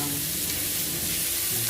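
Carrot and chayote stir-fried for miki noodles make a steady, close frying sizzle with soft stirring scrapes throughout, no talk.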